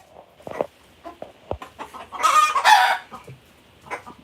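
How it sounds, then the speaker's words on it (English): A backyard chicken on a rare fruit farm clucks in short irregular bursts, with one louder squawking flurry in the middle, close by and mostly alone apart from faint background noise. "I made a new little area for my chicken, Larry, but this one wants to come out."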